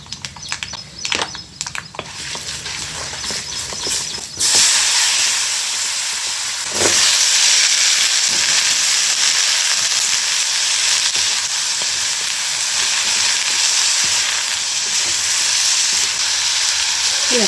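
Spices sizzling in a hot pan over a wood-fired stove: scattered clatter at first, then a sudden loud hissing sizzle that swells again midway and stays steady and close.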